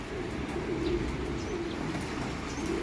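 Racing pigeons, including young birds, cooing steadily in a loft, a dense continuous murmur of soft low coos with occasional faint chirps, no talking.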